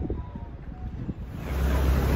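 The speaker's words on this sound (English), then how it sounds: "Quite windy up here at the top," Strong wind gusts roar and buffet the microphone on a hilltop above the sea near Puerto de Mogan, Gran Canaria, swelling louder toward the end with no voices.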